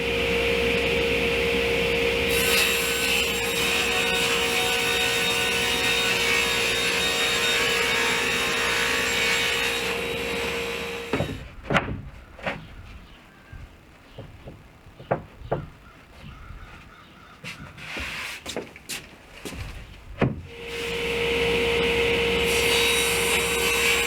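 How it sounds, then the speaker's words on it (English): A power saw cuts through a wooden countertop, a loud continuous whine and grinding rasp for about ten seconds, then quieter scattered knocks and handling clatter before the saw starts up again near the end. "Now I'm going to be cutting the lower part of the countertop at 23¼ inches"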